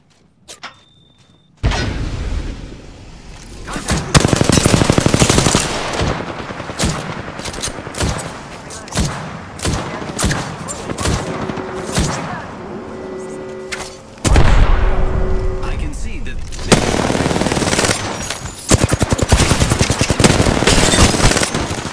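Video game gunfire: sustained rapid bursts of loud shots with thuds and booms, repeated volleys and short pauses throughout, close and dominant with brief voice lines between.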